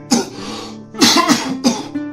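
Three harsh, voiced coughing bursts, close and loud, with brief pauses between them and no talking.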